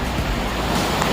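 Ocean waves breaking on Elliot's Beach in Chennai, a loud, continuous surging wash close at hand, with gusty wind buffeting the microphone and no voices.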